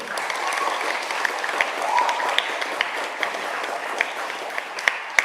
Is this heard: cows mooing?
no